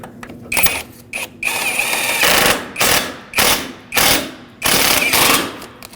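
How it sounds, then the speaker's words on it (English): A ratchet drives center bolts into the upper radiator support of a 2013-2019 Ford Escape in bursts of rapid clicking, several short runs and then longer ones with brief pauses, close and clear, no talk. "Start these center bolts in."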